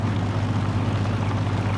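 A loud, steady vehicle engine drone from the video game Farming Simulator 22 holds at a high, constant pitch at maximum revs, like a motor running flat out.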